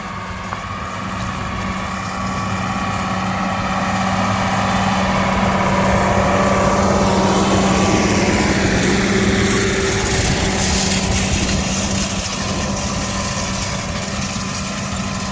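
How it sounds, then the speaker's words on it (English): International 1086 tractor pulling a 10-wheel V hay rake while making windrows, a steady engine drone at moderate distance that swells slightly as it passes and then fades a little. "he just ran down with the hay rake, and he's making windrows"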